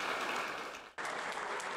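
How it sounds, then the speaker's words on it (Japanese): Applause from staff and city council members welcoming the new mayor at city hall, dense, steady clapping from a crowd with a brief dip in the middle. "職員や市議会議員など多くの人に拍手で出迎えられた西さん。"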